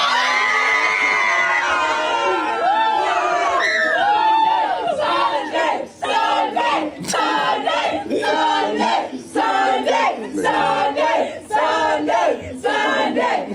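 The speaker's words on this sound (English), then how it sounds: "What were they cheering about?" A large crowd cheers and shouts loudly and continuously, with wavering yells and whoops rising and falling in rhythmic surges throughout.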